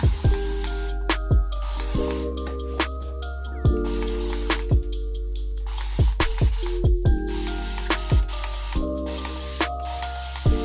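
Spray bottle misting water onto curly hair: a long series of short, sharp hissing spritzes in quick uneven rhythm, close and loud, with no talk.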